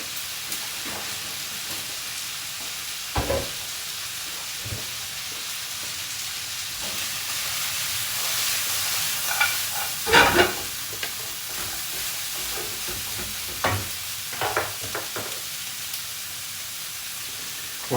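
Broccoli and cashews stir-fried in a hot pan for a Sichuan-style dish give a steady sizzle. Spatula scrapes and clacks come through clearly in bursts, strongest around the middle. No one speaks.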